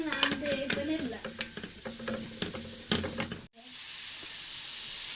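Minced meat stirred in a pot, with clinks and scrapes of a spoon against metal over a sizzling hiss, then the stirring stops and a steady frying sizzle carries on alone.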